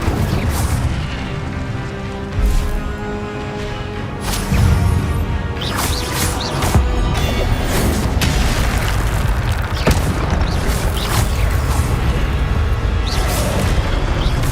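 A fire spell cast in the Hogwarts Legacy video game, heard as loud, dense booming bursts and crackling blasts layered over continuous game sound with no speech.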